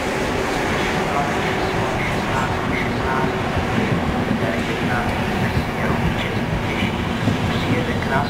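Train at Ostrava Svinov station rolls in with a continuous rumble and faint rhythmic clatter, while a public address announcement plays over the station noise.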